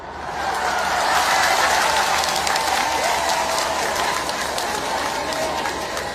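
A crowd ululates at a public gathering, a dense, sustained wash of trilling voices and clapping that stays loud and steady throughout.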